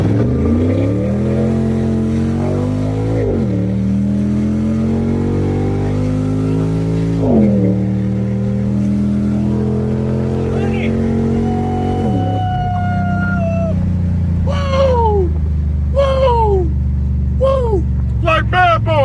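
An 800 hp Chrysler 300 sedan pulls hard on a street, its engine note climbing steadily through several gear changes. Sharp, high chirping squeals follow near the end, all loud and close.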